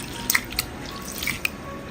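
Urad dal being rinsed in water for idli batter, with sparse close drips and small splashes over a faint steady wash of water.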